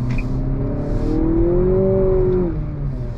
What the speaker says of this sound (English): we're gonna pull out here and go on throttle